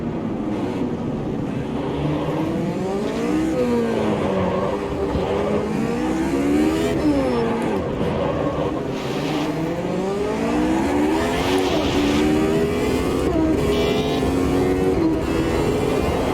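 An F Classic race car in the Automobilista 2 video game lapping Monaco near the tunnel and harbor chicane, its engine note rising and falling through gear changes and braking, loud and continuous with no talk.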